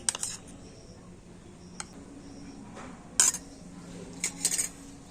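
A spoon clinks against a bowl a few times while gram flour is added, sharp light taps spaced out over quiet room tone.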